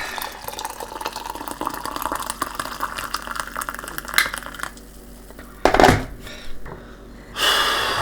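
Cold-brewed coffee poured into a container, a steady liquid trickle and splash for several seconds before a brief louder slosh and a final rush near the end.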